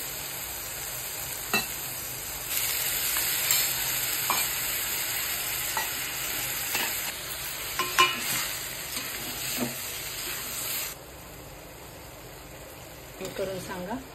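Spice paste with turmeric fries in oil for a green chili and soybean vegetable dish, sizzling softly while a spoon scrapes and stirs it in occasional clinks, and the hiss drops away near the end.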